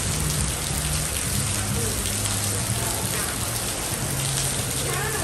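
Heavy rain pours down steadily during a downpour while out window shopping, a dense continuous hiss with a voice faintly underneath.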